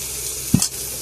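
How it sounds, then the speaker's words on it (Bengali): Sea sonabain fish frying in a pan aboard a boat: a steady close sizzle with a short louder spatter burst midway. "সোনাবাইন ভাজা হইতেছে।"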